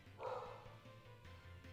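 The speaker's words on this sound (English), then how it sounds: "dog is barking in the background" A dog barks faintly in the distance, one short muffled burst near the start, then only a low steady hum remains.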